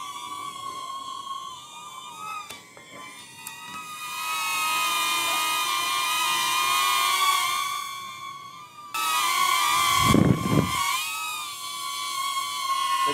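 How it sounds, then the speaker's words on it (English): A DJI Neo drone flies nearby on its default propellers, giving a loud, high-pitched whine that wavers in pitch as it moves, with a brief low buffeting rumble partway through. "So that is the sound of the default propeller of the DJI Neo."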